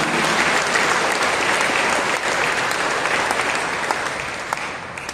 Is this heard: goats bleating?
no